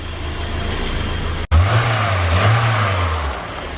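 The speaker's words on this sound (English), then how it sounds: "Car sounds sweet." A BMW E30 engine idles in a garage, then after a brief cut rises into a loud, close rev, holding a sustained droning note before easing back down.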